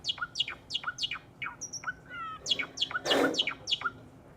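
Recorded bird song played back to a lecture audience: a rapid series of short, sharp chirps and descending whistled notes, fairly faint and slightly roomy, with no talking over it.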